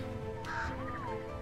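A bird in ARK Survival Evolved gives one short, rising-and-falling caw, crow-like and fairly faint over a steady ambient game backdrop.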